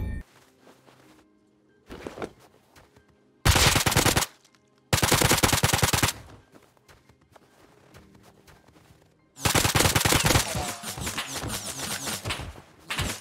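Loud bursts of automatic gunfire in the video game Rust come in three rapid-fire volleys separated by quieter gaps with scattered single shots and footsteps.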